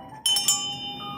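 A small bell gives a bright, high ring with a quick clink at the start, then a clear tone that lingers softly.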